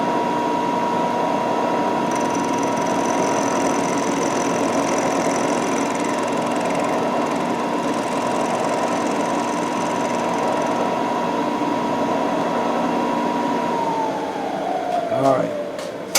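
A milling machine cuts metal for a letter punch, a steady loud grinding whir with a constant hum that holds for most of the clip, then winds down and stops near the end.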